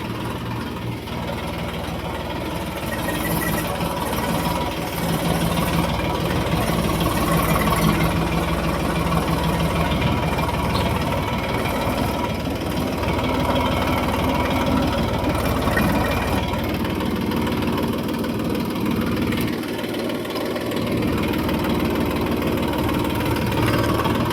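A tractor engine runs steadily at idle for about twenty-four seconds, a loud, continuous low rumble with a constant vibrating drone and no talk over it.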